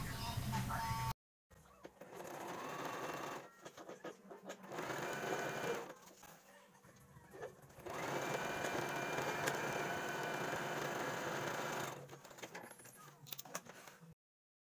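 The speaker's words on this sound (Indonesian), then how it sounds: "Satukan dan jahit bagian saku dengan bagian cover depan" A domestic sewing machine stitches a pocket onto a fabric cover in several close, steady whirring bursts of rapid needle chatter, separated by short pauses.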